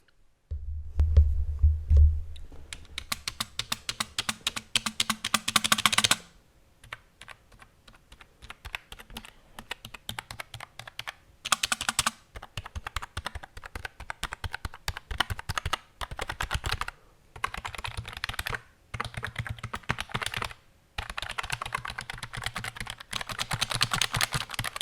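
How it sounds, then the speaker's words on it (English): Typing on an Uhuru everyday computer keyboard, a close, crisp run of rapid key clicks in bursts separated by short pauses, with no voices. "now we are going to try the keyboard"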